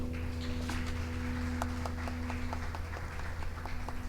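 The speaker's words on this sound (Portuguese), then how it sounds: "Vamos aplaudir esse Deus." Congregation at a Sunday church worship service claps together over sustained music, a broad wash of many hands with some sharper individual claps standing out, steady throughout.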